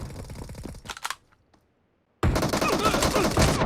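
A mini shotgun fires in a team shooter game, a short cluster of sharp cracking shots, then near silence, before loud game noise and combat sounds surge back in.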